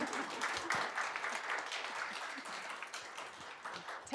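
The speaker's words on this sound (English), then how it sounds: "So please, an applause for Aunty." Audience applause at a security chapter meeting at Reactor London, a steady mid-sized round of clapping held for about four seconds, moderately loud throughout.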